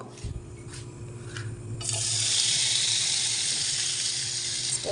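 Fish going into hot oil with cumin seeds, a steady bright frying hiss that swells and holds close and loud after a quieter start with light clinks.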